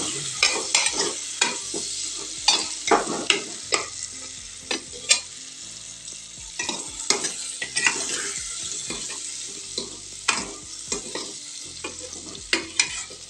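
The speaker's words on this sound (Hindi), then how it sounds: "अब इसमें मैं गोभी डालूंगी, गोभी पहले तल लेती हूँ" Cauliflower fries in a pan with steady sizzling, while a spoon scrapes and clatters against the metal in irregular stirring strokes, close and fairly quiet.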